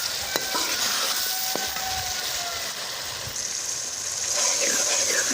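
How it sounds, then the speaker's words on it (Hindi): Potatoes frying and being stirred into fish curry masala in a pan, a steady sizzle broken by scraping stir strokes and a few clinks of the utensil, close and continuous. "अब इसको भी मैंने आलूओं को भी अच्छी तरह भून लेना है।"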